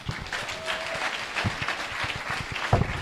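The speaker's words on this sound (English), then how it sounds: "Can you clap for him?" A conference audience at a finance event in Kaduna claps for a presenter after his talk, a steady, fairly soft patter of many hands that continues throughout at moderate distance.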